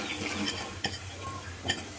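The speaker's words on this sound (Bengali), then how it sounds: "লাউটা দিয়ে আমি নাড়িয়ে দিব। নাড়িয়ে দিয়ে একসাথে বুটের ডালটাও দিয়ে দিব।" Bottle gourd and chana dal get stirred in a pressure cooker pot, making a soft scraping shuffle broken by two sharp metallic clinks of the spoon against the pot.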